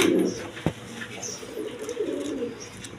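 King pigeons of liver colour coo in a loft, a low throaty call rising twice under a soft background hum, with one sharp close knock near the start.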